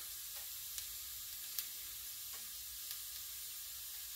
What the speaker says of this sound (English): my pan is still hot and sizzling